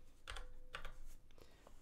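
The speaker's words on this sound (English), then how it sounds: "Let me take a time code with my weird keyboard" Quiet, rapid clicking of keys on an unusual computer keyboard, a few quick strokes in short clusters with a faint hum behind.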